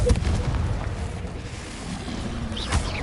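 Confringo fire-blast spell explosion in a Harry Potter video game, a loud, broad rumbling burst of noise that rolls on for a few seconds with a second surge near the end.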